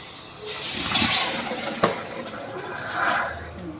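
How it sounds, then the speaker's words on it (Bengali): Water is poured into sugar in a hot kadai to make syrup for crispy mashkalai dal jilapi, giving a steady hissing, steaming rush with a sharp crackle partway through and swelling again near the end. "এতে এরকম দু গ্লাস জল দেবো"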